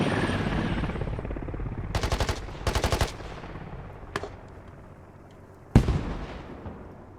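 Bursts of automatic machine-gun fire in a video game scrimmage as a gunner defends a tree line, two rapid rattling volleys followed by single sharp shots over a steady battlefield rumble.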